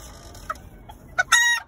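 A small rooster gives a few soft clucks followed by a short, high crowing call, close by and fairly clear, with no talking.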